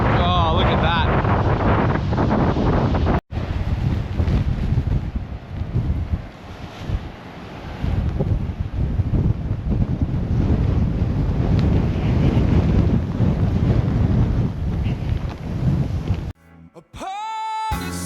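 Loud, relentless wind buffeting the microphone on a beach near Hamelin Bay, Western Australia, roaring and gusting for most of the stretch, with a brief cutout and some muffled sounds near the end.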